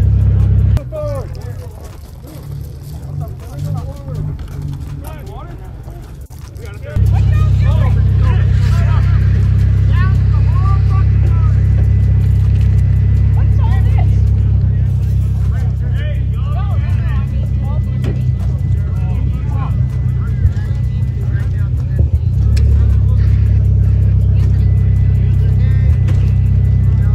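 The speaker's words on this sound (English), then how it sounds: "Get this car going, Lou." A built, boosted NB Miata engine that catches fire, starting and then running loudly at close range with a heavy steady drone, people shouting and talking over it.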